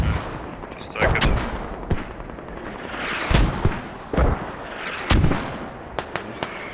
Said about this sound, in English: Lots of mortars coming in on Craig and Dips there, taking him down.